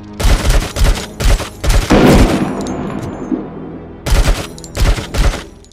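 Sniper gunfire in the video game RoboCop: Rogue City, loud sharp shots in quick clusters, a burst of several rapid cracks, a short pause, then more bursts.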